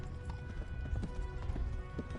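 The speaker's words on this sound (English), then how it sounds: "stupid horse can't freaking run." Horse hooves clip-clop at a steady galloping rhythm in the medieval video game Kingdom Come: Deliverance, close and continuous over low rumbling game ambience, with an occasional faint whinny.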